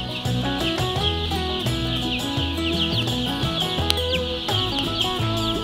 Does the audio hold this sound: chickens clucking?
yes